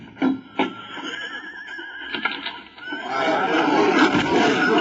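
A horse whinnies loudly up close, followed by a couple of snorts and a rising rumble of movement and background noise.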